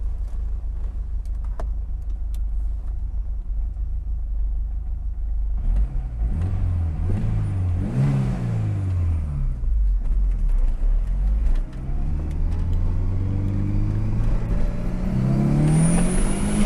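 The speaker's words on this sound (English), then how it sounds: "See if we can't get some tunnel sound in here." A Volvo 240 with a swapped-in T5 engine drives through a tunnel. A constant low engine drone swells into rising revs through the gears, with the tunnel making the sound loud and boomy.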